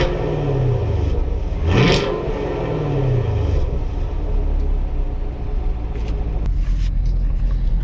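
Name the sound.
2016 Chevrolet Camaro 2SS engine revving, dual mode exhaust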